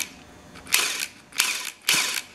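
Ratchet wrench loosening the head bolts on a 2018-2020 Suzuki RM-Z 450 engine during teardown: three separate bursts of close, loud clicking ratchet strokes with short quiet gaps between them.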